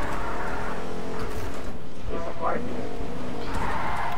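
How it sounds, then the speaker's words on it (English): A car drives in the video game Fortnite, a steady loud engine drone with a brief skid or tire squeal midway, heard under constant game noise. "I hear a car!"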